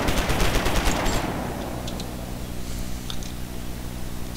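Rapid automatic gunfire from the survival video game Starforge gives a dense, loud burst for about a second. It gives way to steady droning background game noise and a few faint clicks.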